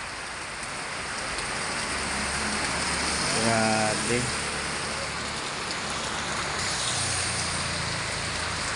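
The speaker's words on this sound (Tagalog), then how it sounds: "Very strong rain." Heavy rain pours steadily onto a flooded street in the Philippines, a loud, dense, unbroken wash of water. A voice briefly exclaims partway through.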